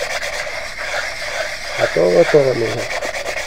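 A car brake disc being sanded by hand, with steady rubbing and scraping strokes running under someone speaking Spanish, the sanding loudest in a short burst near the middle.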